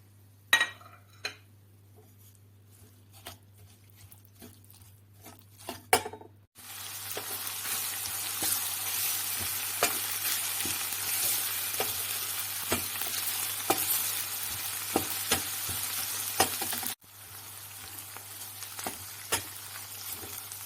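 Spices stirred into hot oil for karnıyarık, first a few spoon clinks against the pan, then a loud, steady sizzle of frying that runs on with scattered scraping and clinks before cutting out.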